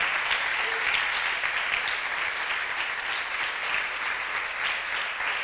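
A church congregation breaks into strong, sustained applause after a sermon on the wedding at Cana, a steady uniform wash of clapping that holds at an even level throughout.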